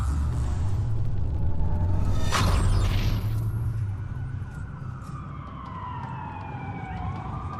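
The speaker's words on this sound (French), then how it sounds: "Ça fait beaucoup de sirènes pour une coupure." Police sirens wail loudly in the Watch Dogs video game, a rising burst with a sweeping tone followed by sirens trailing off more faintly over a low city rumble.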